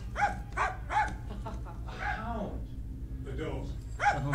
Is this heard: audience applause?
no